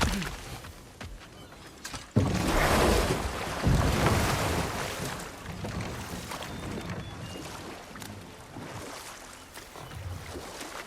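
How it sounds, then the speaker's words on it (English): In God of War Ragnarok, water rushes and roars from a nearby waterfall in loud, surging swells mixed with windy noise. Stronger bursts come early on, then the sound settles into a steadier wash. "Waterfall."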